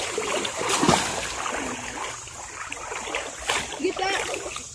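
A person jumps into a swimming pool, a loud splash and churning water followed by lighter sloshing, with people talking and calling out around it.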